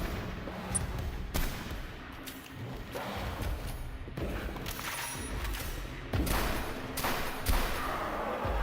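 Gunfire in Silent Hill: Homecoming booms repeatedly as dense, loud shots with heavy thumps, spaced irregularly over a constant backdrop of game noise.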